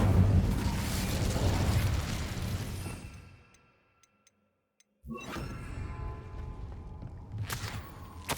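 An Incendio fire spell cast in the video game Hogwarts Legacy roars as a loud, dense burst that fades out over about three seconds. A short near-silence with faint ticks follows before another fiery wash swells back in.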